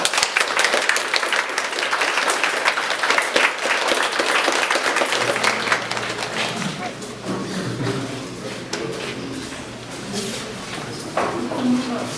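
An audience applauds at the opening of a new computer classroom in a Ukrainian school, with dense clapping that fades after a few seconds into scattered claps and murmuring voices.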